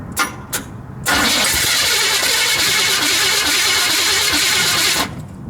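A 1978 Chevy truck engine, once seized, cranks briefly, catches with a loud burst and runs roughly for several seconds before cutting off abruptly.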